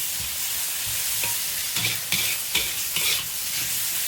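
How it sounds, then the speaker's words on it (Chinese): Sauerkraut being stir-fried in a wok, with a steady close sizzle and scraping stirs and clacks of the spatula coming in short bursts through the middle, with no talking. "不用久炒，酸菜炒一下，大概熟了就可以了。"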